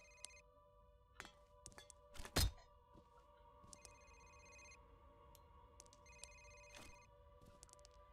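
A telephone ringing in the horror shooter game F.E.A.R., faint repeated double trills spread evenly through the clip, with a sharp thud partway through and no talking.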